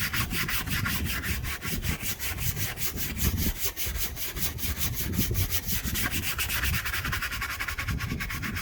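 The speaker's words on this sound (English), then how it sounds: "Stiff bristle brush." A stiff bristle brush scrubs plastic car trim coated with Chemical Guys Nonsense cleaner, a steady close rubbing and scratching that runs without pause from start to finish, with no talking.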